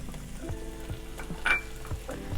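Chopped capsicum sizzles in a pan of frying meat, a soft continuous hiss broken by periodic stirring scrapes and one brief clink, close and fairly quiet.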